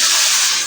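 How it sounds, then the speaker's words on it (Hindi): Hot tadka tempering poured into cooked masoor daal, giving a loud, steady broadband sizzle and hiss that fades slightly toward the end of a brief burst. "इस वक्त मैंने भगार डाला"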